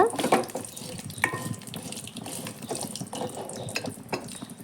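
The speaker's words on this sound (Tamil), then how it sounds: "இந்த சமயத்தில் நம்ம சின்ன வெங்காயத்தை சேர்த்துக்கலாம் நல்லா கலந்து கொடுங்க" Small shallots are stirred into frying ridge gourd peel with garlic in a pan, a soft sizzle with scraping, clattering stirring strokes throughout, fairly close, no talk audible.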